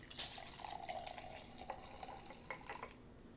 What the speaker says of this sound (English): now I'm going to put half of my cup of water in this solution